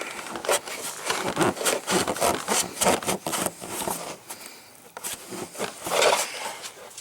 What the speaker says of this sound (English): It goes back on, then you gotta tighten that clamp.